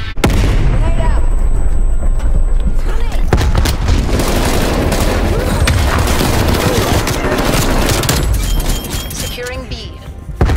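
Call of Duty multiplayer on the Garrison map during a Domination match: a loud grenade blast followed by bursts of gunfire and booming explosions, with in-game voices calling out over the noise.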